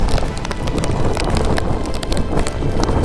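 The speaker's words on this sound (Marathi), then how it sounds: "किती जोराने वारे सुटले आहेत" Strong wind at Visapur fort blows in a steady, loud roar that buffets the microphone with heavy low rumble and gusty surges throughout.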